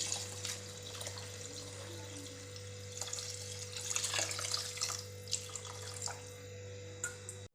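Water pours steadily into a pot of rice for biryani being cooked at home, a continuous close splashing trickle with a low steady hum beneath it, no voices.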